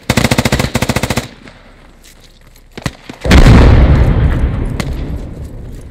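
Video game gunfire in Squad: a rapid burst of automatic shots is followed by a few scattered shots and then a loud grenade explosion with a long decaying rumble.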